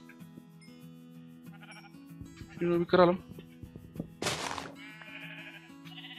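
A sheep bleats twice in a Minecraft game scene, over a steady background tone, with someone speaking briefly nearby.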